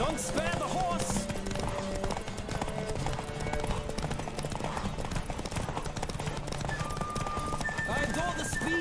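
Rhythmic clip-clop of a galloping horse with an occasional whinny in the video game The Witcher 3: Wild Hunt, under energetic voices and game music.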